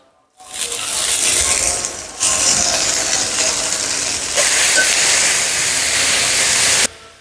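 Sliced onions, green chillies and lai leaves sizzle hard in a hot pan for Sylheti lai leaf chutney, a loud steady frying hiss with no voices, briefly dipping twice as ingredients are stirred.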